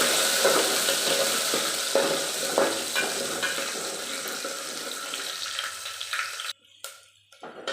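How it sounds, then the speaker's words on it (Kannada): Chopped ginger and garlic with cumin frying in a pan, a steady loud hiss of hot oil with occasional stirring scrapes and taps, close by, fading sharply near the end into quieter gaps, no speech. "ಹೆಚ್ಚಿಟ್ಕೊಂಡಿರೋವಂಥ ಶುಂಠಿ ಬೆಳ್ಳುಳ್ಳಿ ಸ್ವಲ್ಪ ಹಾಕೋಣ ಇದು ಸ್ವಲ್ಪ ಫ್ರೈ ಆಗಬೇಕು"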